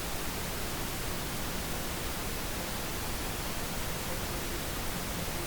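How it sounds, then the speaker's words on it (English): A constant, even wash of pink noise fills the clip with no variation or other sounds. "we're gonna solo it with the pink noise and then bring it up until it's just audible"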